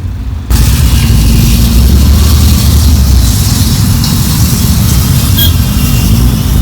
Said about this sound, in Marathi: बघा सकाळ सकाळी 7 वाजताची ट्रॅफिक आहे